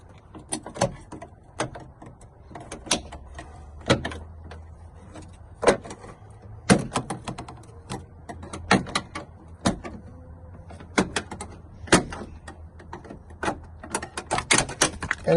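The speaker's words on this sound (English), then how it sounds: "we're going to pop off the factory door sill" Factory door sill trim is pried off a 2003 Ford Ranger, giving a series of sharp plastic snaps and clicks in irregular bursts, close up, with faint handling noise between them and no talking.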